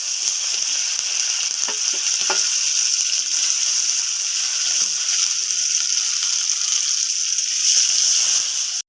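Chopped onion and tomato frying in hot oil with bay leaves, a loud continuous hissing sizzle with a few faint utensil taps, no voices.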